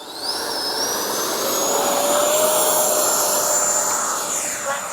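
A Freewing 90mm T-45 RC jet takes off with a loud, steady turbine whine and roar that swells slightly as it climbs away, heard alone without talk.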